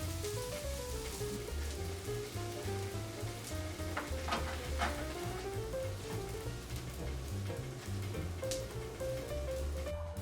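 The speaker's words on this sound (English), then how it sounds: "we're going to toast the buns with olive oil and garlic so that they are just like a garlic bread" Burger buns toast in olive oil and garlic, a soft, steady sizzle under light background music, with a few faint spatters and no speech.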